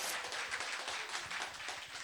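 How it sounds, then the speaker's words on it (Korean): Audience applause in a theater after a Korean farmers' music (nongak) performance, a steady wash of many hands clapping that holds fairly even and moderately loud throughout. "박수 한번 주시죠."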